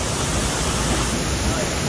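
Madan waterfall near Thiruvananthapuram pours in a steady, dense rushing roar, close and loud, unbroken for the whole stretch.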